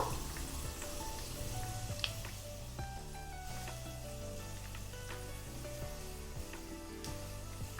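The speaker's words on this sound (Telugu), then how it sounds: "కొంచెం కరివేపాకు వేగనిద్దాం" Curry leaves and green chillies frying in hot oil in a pan for street-style chicken pakoda, a steady, dense sizzle running throughout, close and loud, with occasional pops and stirring clinks.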